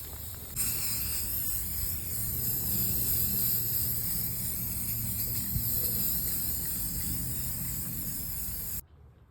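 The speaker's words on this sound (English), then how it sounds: "we're going to spray paint them black." A steady, continuous hiss of an aerosol spray can painting pumpkin pails black runs for several seconds without pause, then cuts off abruptly.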